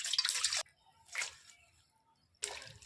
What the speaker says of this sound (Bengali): ফুল ভালো করে ধুয়ে নেব।